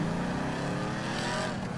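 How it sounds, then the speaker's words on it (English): Engine of an unmarked Camaro police car in the video game GTA V with the LSPDFR mod, a steady low droning hum that stays fairly quiet throughout, with no talk. "Man, the engine sounds and everything in this are just fantastic."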